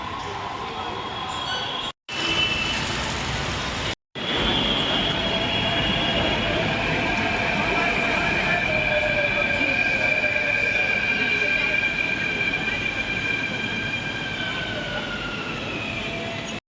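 A metro train rumbles loudly and steadily, with long high wheel squeals rising over the roar and two brief cutouts early on.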